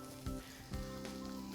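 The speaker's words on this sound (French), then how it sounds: "Je vais mettre le jambon, puis on veut entendre le... Oh, un petit peu. Voilà, je l'entends." Ham sizzles quietly in a hot pan, a soft, steady frying crackle with a couple of brief louder bursts, heard alone and up close.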